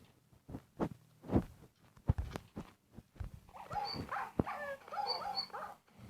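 Minecraft dogs yap and whimper in a quick flurry of high, synthetic-sounding barks, with sharp thuds and clicks scattered before them.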